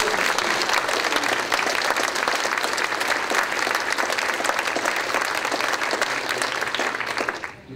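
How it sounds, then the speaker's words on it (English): An audience at a 2012 university state-of-the-university address breaks into steady, dense applause that fills the whole stretch loudly and evenly, then fades slightly at the very end. "You stepped on my applause."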